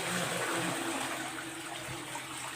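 Water gushes and splashes steadily for a few seconds as laundry is rinsed, a close, continuous watery rush with no voices.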